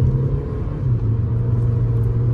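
A 2023 Hyundai Verna's turbocharged engine, around 160 bhp and running in sport mode, holds a steady, loud, low rumbling drone from inside the car, with no voices over it.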